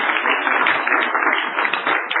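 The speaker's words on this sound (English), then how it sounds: "a big hand of applause for you and your team" An audience at a corporate Fuchs capital markets day applauds a presenter and team, steady brisk clapping from a moderate-sized room, fairly close and unbroken for a couple of seconds.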